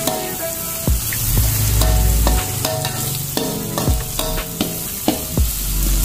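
Sweet dry tempeh frying in a pan with salt and powdered stock, stirred with a utensil: steady close sizzle under a series of sharp scraping, clattering stirs spaced through the clip.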